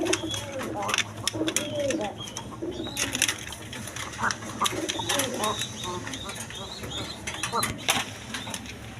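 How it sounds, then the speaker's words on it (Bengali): A pair of army pigeons coo softly and repeatedly among other birds, under ongoing mechanical clatter and background noise in a pigeon market setting. "এখানে এক পেয়ার আর্মি কবুতর আছে"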